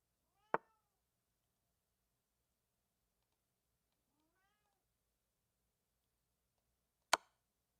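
A cat meows twice, quietly and some seconds apart, in an otherwise near-silent room, with two sharp clicks, one at the start and one near the end.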